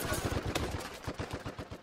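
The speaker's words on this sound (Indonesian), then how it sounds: "Pasukan Jerman menggunakan senapan mesin untuk meredam pemberontakan." Rapid machine-gun fire rattles out in a continuous, dense burst of close, evenly spaced shots, with no voices present.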